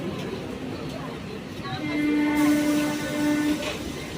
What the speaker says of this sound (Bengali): এই মেমু ট্রেন, এগুলো